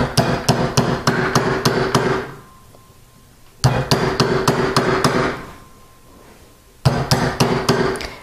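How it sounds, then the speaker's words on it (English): A jewelry ring being hammered on a mandrel with a metal hammer, for a box ring: three bursts of rapid, sharp, ringing metallic strikes, each burst fading into a quiet pause before the next. "what I'm going to do is just work this here on my mandrel"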